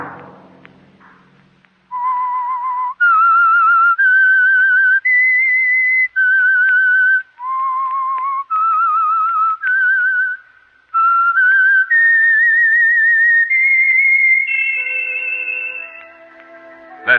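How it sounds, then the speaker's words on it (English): A lone human whistler performs the signature theme of The Whistler radio drama, a clear melodic line of sustained notes rising and falling over about fifteen seconds, close and loud with no talk. "Let that whistle be your signal for The Whistler"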